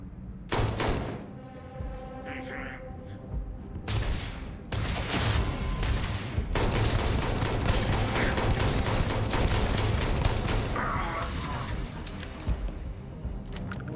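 Gunfire in the Starfield video game: a burst of rapid shots, then irregular single and clustered shots and thuds through a continuous noisy background.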